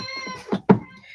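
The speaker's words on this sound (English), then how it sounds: "You can hear my baby crying outside the door because her brother closed the door." Baby crying outside a closed door: a short whimpering cry in two rising bursts, fairly close and clear, muffled slightly, with harmonic tones that make it almost cat-like.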